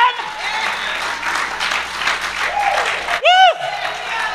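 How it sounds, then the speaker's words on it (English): A church congregation applauds in a clap offering during a sermon, a sustained wash of clapping with voices cheering and calling out over it, then a brief shout near the end. "Give the Lord a clap offering"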